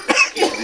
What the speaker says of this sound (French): Ça tousse, hein?